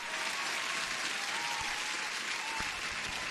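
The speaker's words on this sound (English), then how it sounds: "huge applause for everyone" Steady, dense applause fills the whole stretch, an even wash of many hands clapping at once with no talking heard over it.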